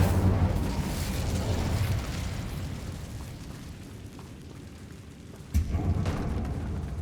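A fire blast from the Incendio spell in Hogwarts Legacy, explored in a tomb on PS5, opens as a fairly quiet rumbling whoosh that slowly fades, then a second sharp burst flares near the end.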